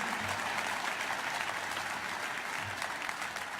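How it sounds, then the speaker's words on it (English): Dense, sustained applause from a large audience at a speech by Israeli Prime Minister Netanyahu, a continuous wash of many hands clapping that holds at a steady level throughout. "Well, you can clap."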